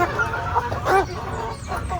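Several caged chickens cluck close by, short clucks and brief squawks scattered over a steady low background murmur.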